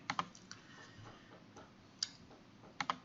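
A few sharp, quiet mouse clicks on a computer, spaced irregularly in a near-silent room, with a pair of quick clicks near the start and another close pair at the end.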